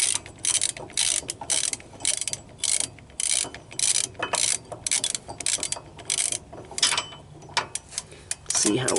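A ratchet tightens an anti-rattle trailer hitch on a 2021 Yamaha Wolverine X2 XT-R 850 UTV, with close, loud bursts of rapid clicking in repeated strokes separated by short pauses.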